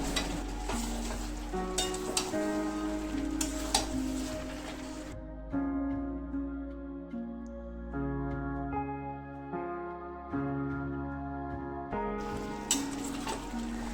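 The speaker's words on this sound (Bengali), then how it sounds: "ঢাকনা দিয়ে দিয়ে মাংসের জল শুকিয়ে তেল উঠে আসা অবধি কিন্তু কষাতে হবে।" Mutton pieces sautéing in oil in a pan until their water cooks off, a steady close sizzle and frying crackle with occasional stirring, briefly quieter in the middle before the sizzle returns.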